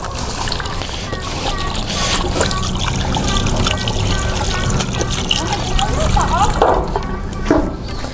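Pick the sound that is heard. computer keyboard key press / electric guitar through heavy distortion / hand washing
hand washing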